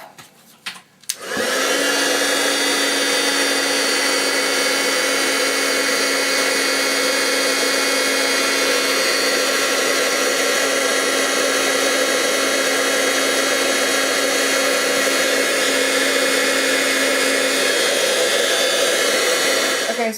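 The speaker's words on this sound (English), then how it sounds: "Okay, and now I'm gonna go ahead and get my heat gun" A heat gun used for card making runs with a loud, steady close-up whir and rushing blow of hot air, switched on after a few clicks and sustained without a break.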